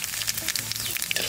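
Cumin seeds fry in hot oil in a home kitchen, giving a brief, steady sizzle with crackling pops.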